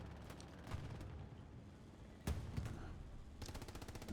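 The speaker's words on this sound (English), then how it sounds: "MG42 was singing" MG42 machine gun bursts in Hell Let Loose at Carentan, sharp rattling volleys near and mid-distance with a loud burst around the middle and another toward the end, over a rumbling battlefield backdrop.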